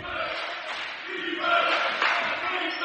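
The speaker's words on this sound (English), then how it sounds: "Crowd chanting defense, defense." A basketball crowd at a men's college game, Carleton at St. Scholastica, chants in a gym, a loud, rhythmic two-beat call rising and repeating from many voices at a distance.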